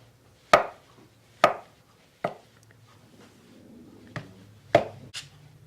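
Hard-boiled farm fresh eggs being chopped for a Frito corn chip salad: six sharp, separate knife strikes on a cutting board, close and distinct, spaced about a second apart over a faint low hum.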